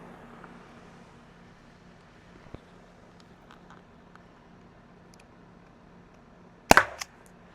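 A single sharp, loud crack of a Byrna CL launcher firing near the end, standing out against quiet outdoor background with faint distant traffic and a small earlier click.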